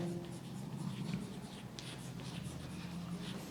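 A math formula is written out by hand: a steady, soft scratching stroke runs for a few seconds over a constant low background hum, close and fairly quiet.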